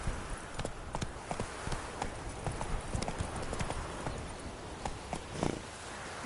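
Clip-clop hoofbeats of the horse Roach galloping in the video game The Witcher 3, a quick, regular rhythm of hooves against soft ambient game sound, moderately faint but continuous.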